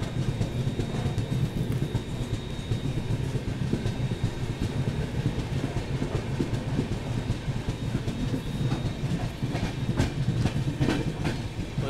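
The Rajasthan Humsafar Express, train 22985, rumbles toward Chanderiya station with steady wheel clatter and rhythmic clicks over rail joints, heard from inside the moving train without speech.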